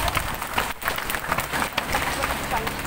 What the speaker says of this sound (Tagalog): Pumalakpak nga yung mga may kaluluwa.